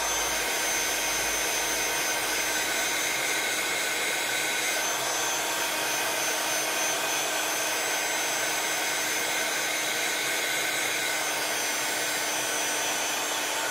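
A hot air gun that is overheating blows a steady, loud broadband whoosh with a constant drone. It runs unbroken for the whole stretch with no talking.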